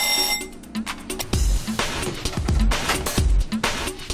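A repeating electronic alarm sounds aboard a fishing boat at sea, calling crew up for work; beeping bursts come in regular pulses over heavy thumping and engine rumble, fairly loud and close.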